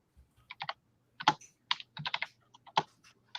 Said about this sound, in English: my other keyboard's really bad. The one I have. It's very clicky anyway,